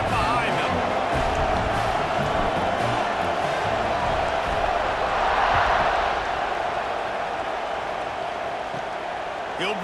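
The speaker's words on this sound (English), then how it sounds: "this crowd now ready to get behind them" A football stadium crowd roars steadily before kickoff, a dense, unbroken wall of cheering and noise under a commentator's voice, with a brief swell in the middle.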